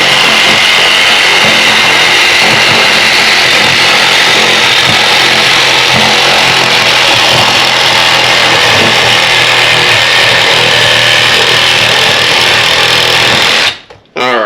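A power saw cuts through the bones of a farm-raised hog, a loud, continuous grinding whine lasting several seconds before stopping abruptly at the end.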